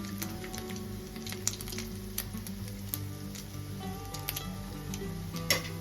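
Chowmein pakoda frying in oil over a low flame, a steady close sizzle with small bubbling crackles and occasional light ticks, continuous throughout.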